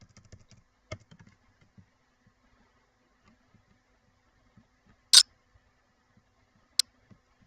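On prototype device firmware, a camera shutter sound effect fires twice as sharp, bright clicks a moment apart, with soft scattered key taps and quiet ticks in the background.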